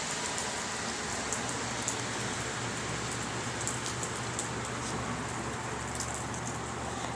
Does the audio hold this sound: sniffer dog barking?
no